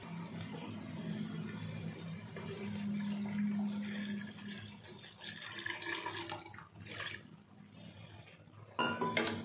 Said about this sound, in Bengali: এখানে পরিমাণ মতো একটু জল ঢেলে দিতে হবে